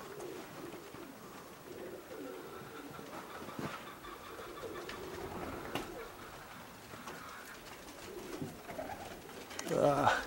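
Modoc High Mountain zipper pigeons, 2017-bred young cocks, are outdoors with faint, soft cooing and a few brief calls under a low ambient hum, and a short burst of wing flutter near the end.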